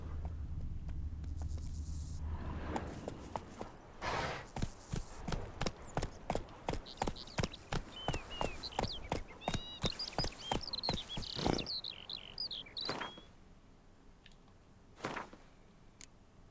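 Roach, a horse in The Witcher 3, trots with a steady run of hollow clip-clopping hooves, close and fairly loud. A few bird-like chirps come partway through, and the hoofbeats fade near the end.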